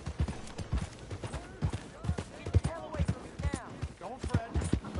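Horse hooves clip-clopping in a PS4 video game, a quick steady rhythm of close hoof beats with voices talking over them.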